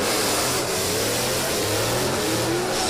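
A drift car with its whole exhaust removed roars loudly and continuously at a drifting event, the raw engine note rising and holding at high revs, close and without speech.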